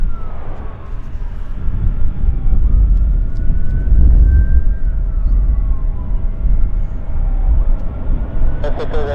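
Airplanes arriving at Vancouver airport, a loud, continuous low jet roar with a slowly shifting whine above it, heard from the ground with outdoor background noise.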